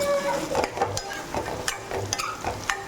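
Steady sizzling of eggplant sautéing in oil in a pan, with soft scraping and stirring clatter throughout, close and moderately loud.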